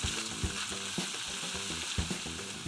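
Cooked garlic stir-fried in a hot pan for garlic prawns, a steady loud sizzle and frying hiss with regular scraping strokes of the spatula throughout, no voices.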